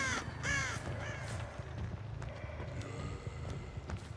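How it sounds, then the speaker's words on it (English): Crows in the Dead by Daylight video game give several harsh caws, loudest at the start and then fading, over a low steady background rumble. "I saw a different crow over here"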